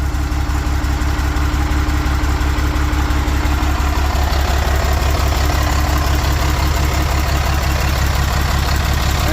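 An MG car engine settles into a steady, loud idle after being revved, running cold with a bit of smoke, its low rhythmic pulsing and mechanical rumble close up and constant throughout.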